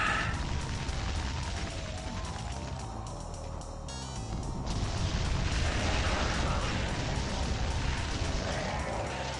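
Video game combat in Doom 2, with continuous loud gunfire and booming explosions piling on each other in a dense, unbroken barrage, close and harsh, with a brief dip partway through.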